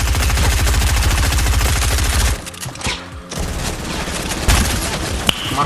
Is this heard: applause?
no